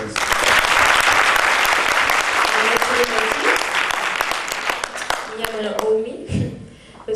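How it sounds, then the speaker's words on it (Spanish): A church congregation applauds loudly and steadily, a dense wash of clapping that thins toward the end as singing voices and talk emerge underneath. "Dê um aplauso"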